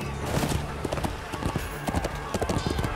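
Horse hooves clatter in the medieval combat game Chivalry 2 in a quick galloping clip-clop, close and steady, over a busy background din.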